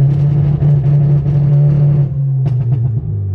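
A loud, close tuned Hyundai Genesis Coupe 2.0T engine holds a rough, steady drone, then drops off with a few sharp pops and crackles before settling back to idle.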